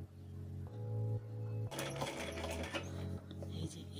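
A sewing machine stitches a fall onto a saree in short bursts, its motor whirring and needle clattering in stop-start runs, close by and fairly quiet, with a little background sound between passes.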